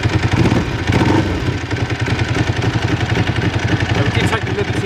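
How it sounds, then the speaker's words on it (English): A motorcycle engine warming up idles close by with a steady, throaty exhaust pulse, rumbling evenly with slight variations in throttle. "Just warming the bike up just very gently before we started"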